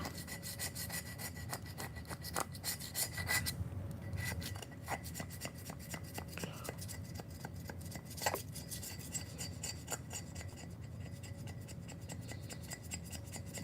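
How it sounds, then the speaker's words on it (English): Residue being scraped off a surface with a tool, giving continuous close rasping strokes in a steady back-and-forth rhythm, fairly quiet, with no talking. "So now it's just like a scraping thing right now."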